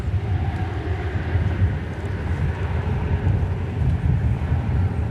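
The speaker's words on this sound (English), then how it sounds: "Of this American Airlines Dreamliner. (787-9) going to Haneda Airport in Tokyo." American Airlines Boeing 787-9 Dreamliner departing Dallas-Fort Worth for Haneda, a steady, low broadband jet roar held at even loudness throughout, with no talk.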